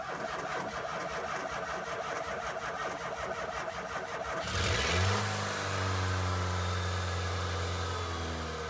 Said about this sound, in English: having not tried to start this van for about a year, we should find that it starts straight up